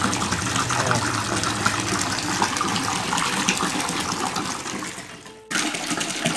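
An Amara AA 105 pump pushes water into a gourami fish pond, a loud continuous gushing and splashing with a brief dropout near the end before the flow resumes.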